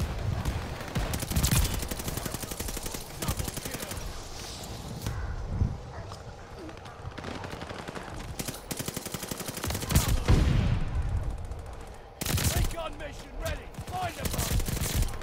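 Rapid bursts from an M1928 Tommy gun in Call of Duty Vanguard, dense repeated automatic fire running through the stretch with brief gaps, up close and loud, mixed with other game noise.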